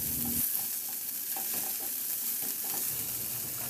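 Garlic and ginger sauté in a small amount of oil in a kawali, giving a steady close sizzle with a few light clinks of a utensil stirring through the pan. No one speaks.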